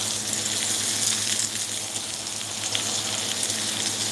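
Onion frying in hot oil for a tilapia dish makes a steady, dense sizzle with a watery hiss, close by and continuous, with no voices.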